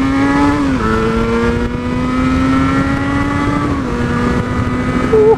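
A Yamaha RD350 YPVS two-stroke motorcycle revs loud and close, its engine note holding steady with a couple of dips and rises, buzzy and raspy with strong harmonics, no voices.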